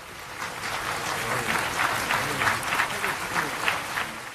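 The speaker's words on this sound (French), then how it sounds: "Et c'est pour ça qu'il y a eu ce tonnerre d'applaudissements" Sustained, spontaneous applause from a large assembly, a thick wash of many clapping hands that swells slightly and stays steady without any voices.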